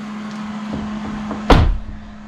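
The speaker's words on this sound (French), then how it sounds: "fermer la porte." A car door shuts once with a sharp, solid thump inside a home garage, the slam standing out over a steady low hum and ringing briefly before fading.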